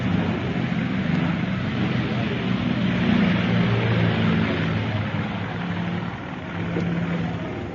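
Steady low drone of an airplane engine at an airport, a continuous rumble held at even loudness throughout as a radio drama sound effect, with no voices over it.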